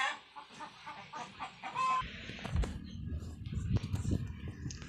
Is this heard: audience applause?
no